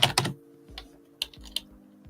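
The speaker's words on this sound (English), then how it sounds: "every time you smash your keyboard like that" A computer keyboard is hit hard, producing a quick burst of heavy clacks followed by a few sharp separate key strikes, close and loud, with no talk.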